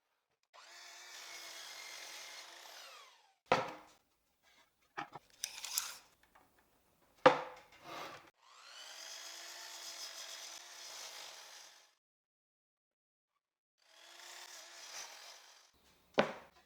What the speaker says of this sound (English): I'll trim the end to square it.